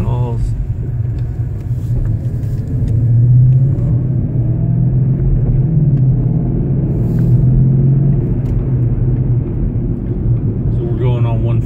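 Manual Ford Mustang driving along at steady speed, its engine a continuous low rumble with a slight swell in the middle, while people talk inside the car.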